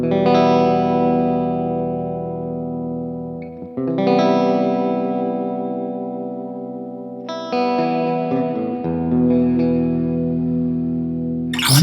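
Sustained electric guitar chords ring out through a wash of reverb and distortion, each strum decaying into a shimmering tail before the next, with no talking.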